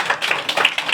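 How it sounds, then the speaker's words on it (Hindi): A short burst of clapping from a small group applauding a child's Independence Day speech, quick sharp claps close by and moderately loud. "तो जोरदार तालियां"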